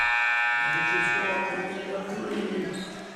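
A loud, sustained electronic basketball game buzzer blares for over a second and fades into crowd noise and arena commotion.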